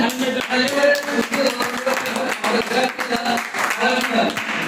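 Audience at a DXN Penang branch celebration claps to welcome a speaker onstage, lively overlapping applause with distinct sharp claps, while voices talk over it throughout.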